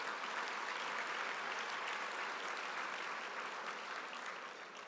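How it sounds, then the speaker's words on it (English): Sustained audience applause at a YMCA luncheon, a dense, even wash of many hands clapping together, fairly distant and steady before tapering slightly at the end. "Now that's worth clapping for these kids."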